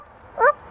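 An African grey parrot imitates a dog's bark, giving a single short, close yelp-like call in an otherwise quiet room.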